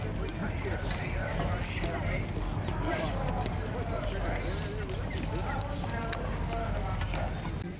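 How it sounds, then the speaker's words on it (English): Heavy horses ploughing clop their hooves irregularly on soft field ground amid outdoor ambience at the Great Dorset Steam Fair, with people talking throughout and occasional bird calls in the background. "we've got heavy horses ploughing"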